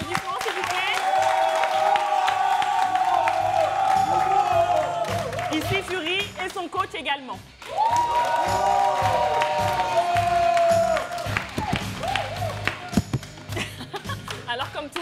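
A studio audience claps and cheers for fighters Ngannou and Fury with their coaches at a television fight presentation, the applause rising in swells beneath a voice on a microphone and background music.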